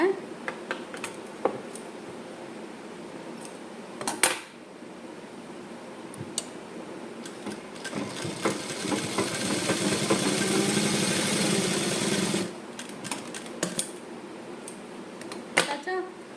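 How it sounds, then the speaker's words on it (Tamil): Sewing machine running a reverse stitch and then a double stitch on cloth. A steady motor whir rises near the middle for several seconds, with a spoken voice and handling noises around it. "கடைசியாக அகைன் ஒரு ரிவர்ஸ் ஸ்டிச் போட்டுட்டு நம்ம டபுள் தையல் போட்டுக்கலாம்"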